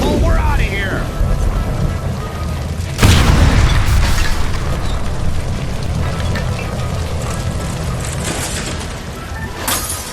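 A shot ruptures a gas line beside a stove in L.A. Noire, setting off a loud booming blast that rolls into a long crackling, rain-like roar of debris and fire, while a voice speaks briefly at the start.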